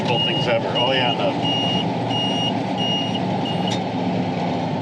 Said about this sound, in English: That's a buzzer for the turn signal.